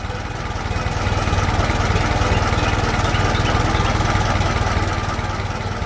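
A small tilling machine engine on a farm runs steadily in a loud, close, continuous drone with a throbbing low rumble and no break.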